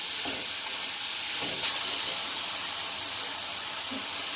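A paneer bhurji mixture fries in a pan with a loud, steady hissing sizzle and a few muffled stirring scrapes, no voices.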